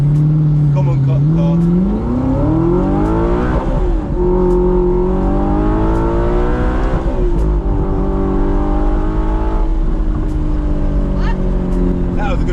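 An Audi R8 engine roars close by during a hard launch, revving and climbing through several gear changes as it accelerates loudly and continuously.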